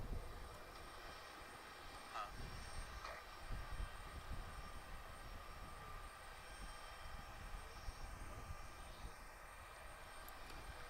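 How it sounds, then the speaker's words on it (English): A Boeing 747 that has just landed at Chicago O'Hare rumbles as a distant, low, steady engine drone, faint and continuous, with a few brief higher whines over the top. "747 has just landed"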